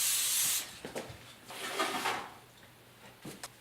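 An aerosol cooking spray hisses onto a baking pan for cinnamon rolls, one strong close burst at the start followed by softer handling rustles and a few faint knocks.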